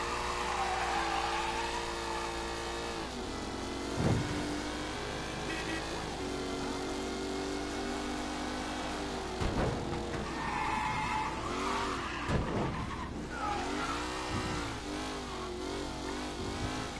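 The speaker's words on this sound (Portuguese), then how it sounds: "Acho da hora o carro com escapamento lateral" A car with a side exhaust in the video game Mafia III drives and revs, its mid-pitched engine droning with rising and falling throttle, tire squeals and a few sharp knocks, while a voice talks quietly underneath.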